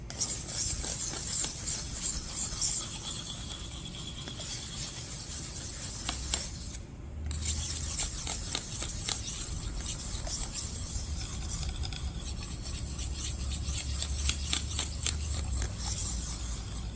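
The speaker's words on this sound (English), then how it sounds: "Right now, we're just working on polishing that edge." A knife blade is rubbed back and forth on a 320 grit whetstone in steady, continuous rasping strokes, close and even throughout, with only a momentary pause.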